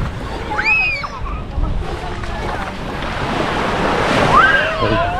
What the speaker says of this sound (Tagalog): lakad lang tayo dito sa tabing dagat